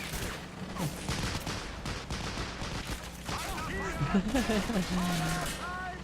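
Machine guns trade fire in the WWII strategy game Men of War: Assault Squad 2, a dense crackle of bursts under continuous battle noise while someone talks over it.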